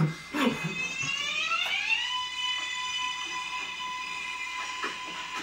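An R188 subway train's motor whines upward in rising tones, then settles into a steady high electric hum, with faint rumbling and clanks underneath.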